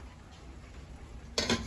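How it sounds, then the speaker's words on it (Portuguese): A lid goes onto a pot of simmering sauce with a single short, soft clink near the end, after a quiet stretch of low kitchen background. "eu vou botar a tampa aqui pra deixar cozinhando um pouco"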